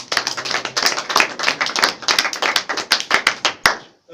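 A small group in a studio audience claps for a florist guest, a loud, close patter of individual hand claps with distinct separate strikes that thins and stops abruptly near the end.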